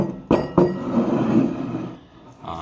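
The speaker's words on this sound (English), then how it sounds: "let's give it a little pour and see how it looks" Whiskey, Proper 12, poured into a glass: two clinks of bottle on glass are followed by a brief, steady pour, close and alone, with no talk.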